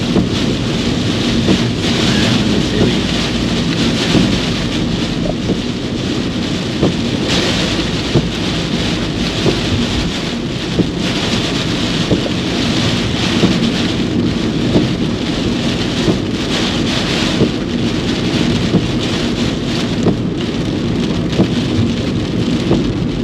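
Heavy rain drums steadily on a car during a driving lesson in Highbrook, Auckland, with dense continuous patter, low rumbling and wind noise throughout and no clear talk.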